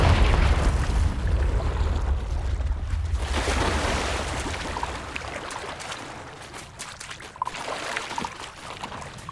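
Confringo spell explosion in Hogwarts Legacy: a heavy rumbling blast with a booming low end fades into lingering crackle and debris noise over several seconds.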